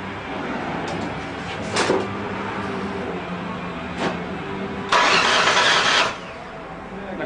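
Ford Taurus SHO engine with the starter motor cranking in short bursts, then a louder sustained whirring crank, close by, as people talk nearby during a car convention.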